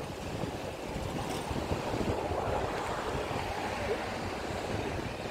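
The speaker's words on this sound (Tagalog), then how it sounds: "Sobrang hangin talaga, oh. Grabe." Strong night wind outdoors near the sea, a continuous rushing roar buffeting the microphone with surf-like swells throughout, loud and unbroken, with no speech.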